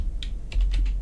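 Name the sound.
typing a hexadecimal colour code on a computer keyboard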